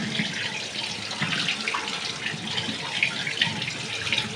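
Tap water runs as leafy greens are washed by hand, a steady, close splashing stream with small irregular splashes throughout.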